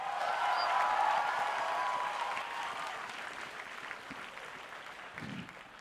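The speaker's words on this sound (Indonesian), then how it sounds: "Tepuk tangan untuk Raditya Dika." A studio audience at a stand-up comedy grand final claps and cheers for a comedian. The dense applause starts strong, then gradually fades away.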